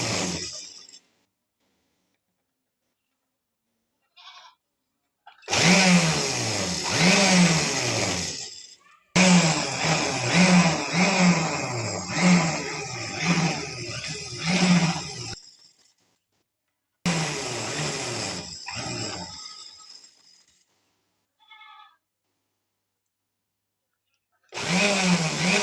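Sewing machine stitching the sleeve of a girl's frock, running in several long bursts of rapid rhythmic clatter separated by silent pauses, with brief handling noises between runs.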